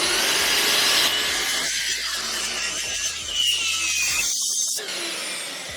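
A track saw with a dust extractor running cuts along a wooden floor joist, the whining motor and rasping blade loud and close over a steady vacuum hum before the saw spins down near the end.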